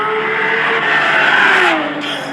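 A 2018 Porsche 911 GT3 with a manual gearbox revs hard in second gear, a loud, steady, high engine note climbing in pitch as it winds up toward nine thousand rpm.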